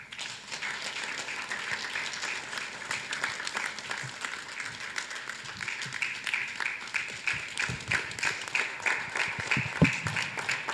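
Sustained audience applause fills a press conference hall marking Nigeria's polio eradication certification, a dense, steady wash of clapping from a sizable crowd with no talk over it.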